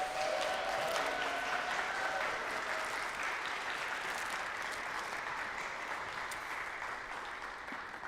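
A church congregation at a Sunday service applauds, a broad, sustained wash of clapping with some cheering that begins full and slowly fades over eight seconds.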